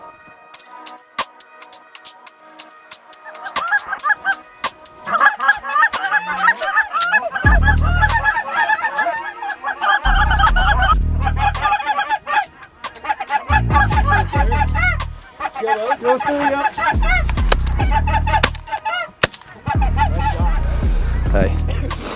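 Geese honking repeatedly during a snowy Wyoming waterfowl hunt, a dense chorus of overlapping calls that swells and continues steadily, mixed with bursts of wind or handling rumble.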